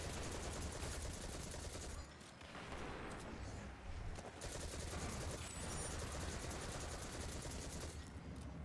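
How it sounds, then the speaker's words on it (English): Sustained auto rifle fire in Destiny rattles in long, dense bursts close by, with a brief lull midway before the rapid shots resume amid game effects, and no voices. "Using this auto rifle to quickly eliminate the acolytes across"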